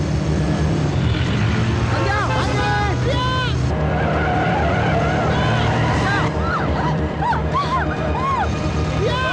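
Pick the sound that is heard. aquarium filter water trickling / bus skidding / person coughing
bus skidding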